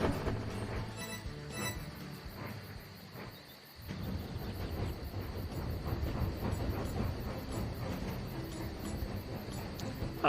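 A train rolls along the rails in the video game Tiny Rails, a steady low rumble with rhythmic clatter, briefly dipping near the start before continuing evenly and moderately loud with no talk.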